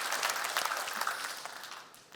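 Church congregation applauding the Hosanna choir during a service: a dense burst of clapping from a large indoor crowd that gradually fades toward the end.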